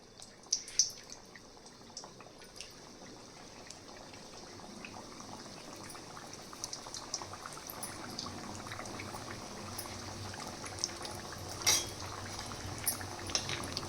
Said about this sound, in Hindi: इसी तरह हम बाकी बचे हुए लौंग लता को भी फ्राई कर लेते हैं।